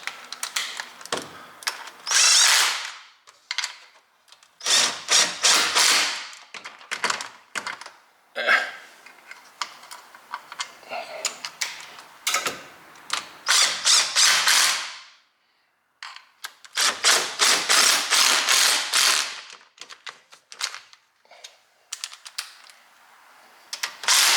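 Impact wrench hammering on the bolts of a welded rear differential on a Mustang drift car, with loud rattling bursts of several seconds each, separated by short pauses.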